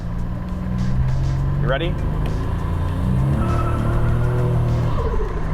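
A modified 1987 Buick Grand National accelerates hard under boost, its steady engine roar filling the cabin and rising through the run, with a brief spoken question near the start.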